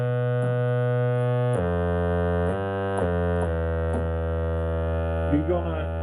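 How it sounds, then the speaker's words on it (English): Vintage analog synthesizer, patched through a trigger input, holds a sustained, harmonically rich tone that steps abruptly through several pitch changes, closing with a wobbling, modulated warble. "So what do we hear? We get a tone."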